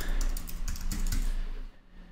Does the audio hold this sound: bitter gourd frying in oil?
no